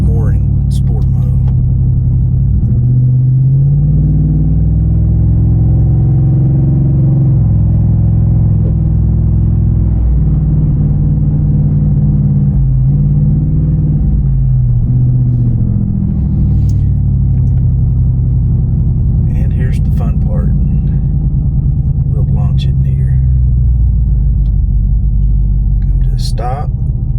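A 2019 Ford F150 with a Flowmaster American Thunder exhaust cruises around 30 mph in sport mode on a curvy road, its deep, steady exhaust rumble rising and falling as the transmission shifts, with someone talking over it.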